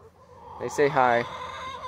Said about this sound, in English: Yeah, you can hear them. They're all squawking.